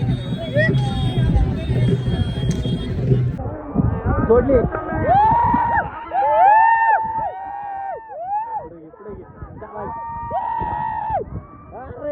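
Large outdoor crowd at a bullock cart race in Jamkhed, a dense hubbub of many voices with shouts and whistles rising over constant rumbling noise, loud and close throughout.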